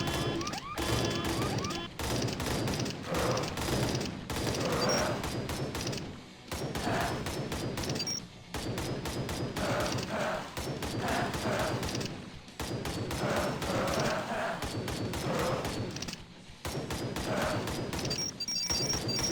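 Dense, continuous volleys of gunfire from shooting zombies in the video game Arcade Paradise, with rapid repeated shots running nearly nonstop and a speaking voice intermittently underneath.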